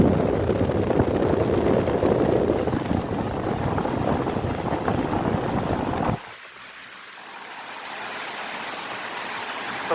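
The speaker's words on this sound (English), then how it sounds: "So the fan took full speed, as you can see, and the airflow is superb." A 1960s GEC Genalex 18-inch exhaust fan roars with a steady rush of air at full speed for several seconds, then cuts off abruptly to a much quieter, low whooshing hum.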